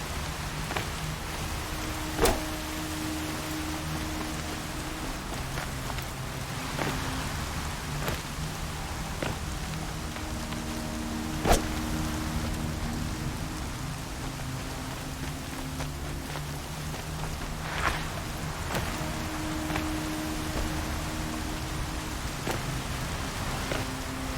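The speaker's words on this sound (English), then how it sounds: "Raining like it's trying to wash everything away." Heavy rain pours steadily in the Horizon Zero Dawn video game, a dense continuous hiss broken by occasional sharp cracks, with faint low tonal hums layered underneath.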